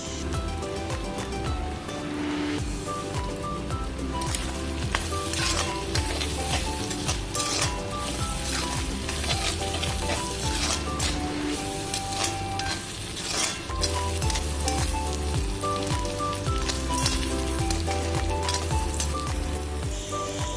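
Duck meat and chopped onions sizzle steadily in a pan for an Assamese-style dry fry, with occasional stirring scrapes, while background music plays over the cooking throughout.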